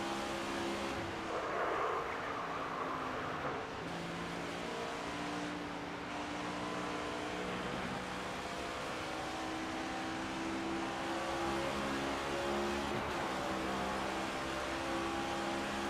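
A NASCAR 25 stock car engine roars without a break through a lap at WWT Raceway, its pitch rising and falling with each gear change and corner.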